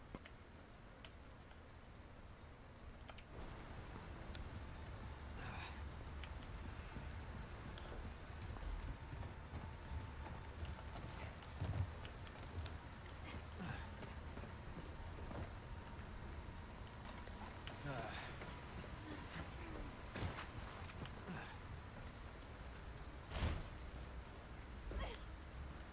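Rain pours steadily in Resident Evil 4 Remake, a soft continuous hiss with scattered sharper drops and a few low rumbling thumps, quiet throughout and with no talking.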